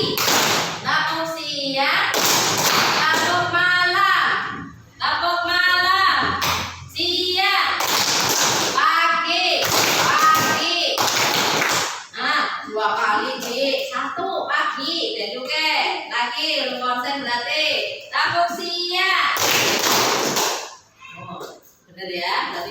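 Children in a classroom play a clapping game, bursts of hand claps alternating with a teacher calling out and the class chanting, loud and close, the claps rhythmic but uneven as the group sometimes misses a beat.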